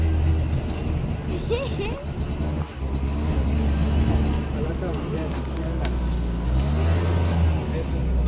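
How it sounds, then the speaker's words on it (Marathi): An auto rickshaw engine drones steadily as it is driven, its low rumble continuous and close, with people chatting over it. "मामाने हर्षला रिक्षा दिली चालवायला."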